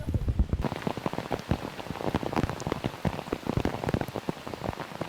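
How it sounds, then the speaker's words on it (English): Steady rain patters densely on surfaces during a disc golf round at the European Open, a continuous close hiss of droplets with no talk over it. "anytime I've ever played in rain, especially like this"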